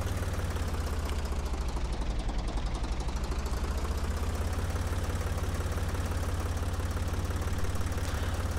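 A tractor engine in the Professional Farmer 2014 farming video game, pulling a planter, drones in a steady, even, knocking idle that stays constant and close throughout with no talk.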